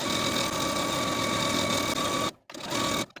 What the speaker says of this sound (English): Now I'm going to take it to my sewing machine and sew the 1/4 inch seam allowance along those raw edges